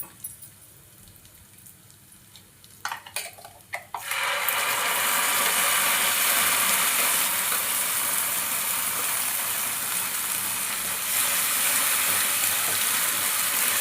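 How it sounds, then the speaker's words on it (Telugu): Blended tomato chutney hits hot oil with fried tempering seeds in a pan, bursting into a loud, continuous sizzle after a few quiet seconds and holding steady to the end. "పోపు గింజలు వేగాక మనం ఆల్రెడీ మిక్సీ చేసి పట్టుకున్న టమాటా పచ్చడి ఇందులో వేసుకోవాలి"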